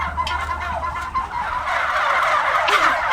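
A dense flock of bronze turkeys gobbles continuously inside a barn, many overlapping warbling calls forming a loud, busy chorus over a low rumble, with no clear talk.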